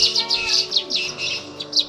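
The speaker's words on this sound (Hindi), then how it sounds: "ध्यान से चिड़िया की आवाज़ सुनिए, कितनी मधुर आवाज़ में बोल रही है।" Small birds chirp and tweet in quick, bright bursts nearby, a lively repeating call over a soft outdoor background, in a village in Pithoragarh.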